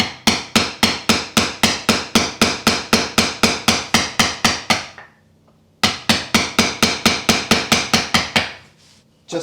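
A heavy hammer drives a flat standard chisel, clearing a carved woodblock for printing. About sixteen sharp, evenly spaced knocks come in a brisk rhythm, then a short pause, then another dozen, all close and loud.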